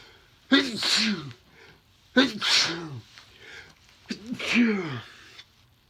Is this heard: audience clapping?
no